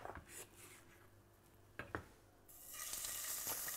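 A veal patty sizzles in a hot frying pan, quiet at first with a couple of clinks, then a steady loud hiss as the meat is laid in, no talk.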